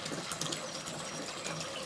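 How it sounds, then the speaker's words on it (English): A substantial flow of water runs through a siphon into a bathtub holding goldfish, a steady close rushing gurgle that fills the whole moment without a break. "there's a bit of a substantial flow there. You hear the siphon completing."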